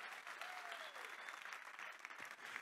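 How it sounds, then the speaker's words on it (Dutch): An audience at a political election rally in Rotterdam claps steadily, a dense and fairly distant wash of applause heard alone. "Iets harder applaus, we voelen jullie niet."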